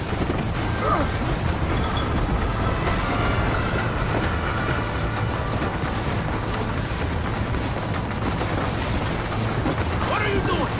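A train running in the Red Dead Redemption video game, its steady mechanical rumble and rattling wagons continuous and loud throughout, with shouted voices over the noise.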